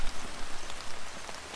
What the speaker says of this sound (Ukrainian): Вночі пішов дощ, стало холодно і незатишно